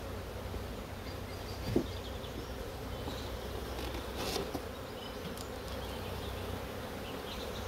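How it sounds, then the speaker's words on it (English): A steady buzz of many honey bees flying around a hive fills the air, a continuous drone with occasional louder individual fly-bys close by. "The flying bees from here will return to the old box."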